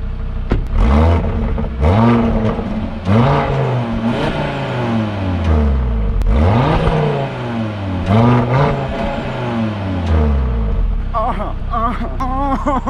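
A 400 hp sports car is revved repeatedly, its exhaust loud and close, rising and falling in about seven distinct surges of throttle before settling near the end.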